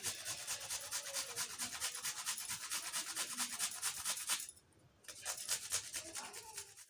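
Steady rapid scraping and rasping as garlic cloves are rubbed against a grater, continuing in quick strokes with a brief pause near the end.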